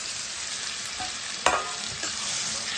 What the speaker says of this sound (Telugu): ఇప్పుడు మనం కట్ చేసి పెట్టుకున్న టమాటా ముక్కలు వేసుకుందాం